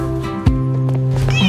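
A kitten meows loudly and close up over a bright musical backing, one drawn-out mewing call sung along in a children's song.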